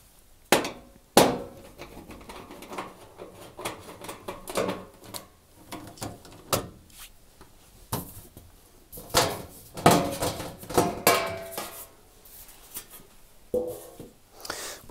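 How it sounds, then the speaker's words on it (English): Nuts are undone to remove the back panel of a Zanussi washing machine, producing irregular sharp metallic clicks, clanks and knocks from a tool and fasteners up close, with quiet gaps between them. "First thing I'm going to do is to remove the back of the machine by undoing all the nuts."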